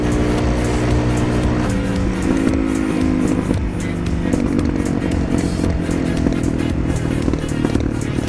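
A Yamaha R6 sport bike runs at full throttle around 80, its engine a loud, continuous drone with shifting pitch steps, wind rush and clatter over it.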